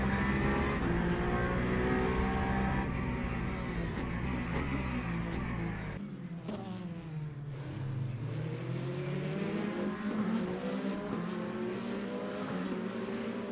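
A Porsche race car in Le Mans Ultimate, racing online at Spa, with a loud, sustained engine drone whose pitch climbs and falls through gear changes and a sharp shift around the middle.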